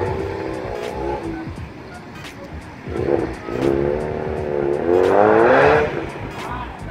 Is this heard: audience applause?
no